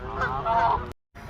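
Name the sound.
geese honking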